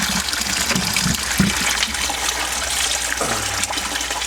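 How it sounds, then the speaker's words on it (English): Small waterfall running inside a tegu lizard enclosure, a steady close trickle and splash of falling water with no talk. "Got the waterfall run."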